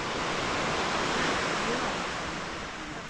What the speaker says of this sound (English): I hope you like the sound of the sea crashing against the beach, because that's what the background noise is here.